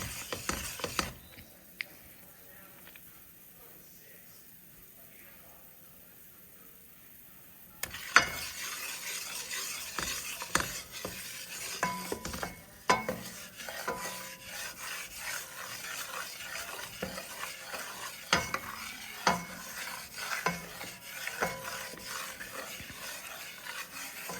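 A roux for gravy or gumbo being stirred constantly in a pan: after a quiet start, a long run of rhythmic scraping and rubbing strokes over a faint sizzle, close and fairly soft, with no speech.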